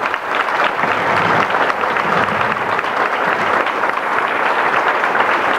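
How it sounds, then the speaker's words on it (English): An audience at an Agape House 25th anniversary event applauds loudly and steadily, a dense wash of many hands clapping that holds throughout without letting up. "give a round of applause to those who have made 25 years possible"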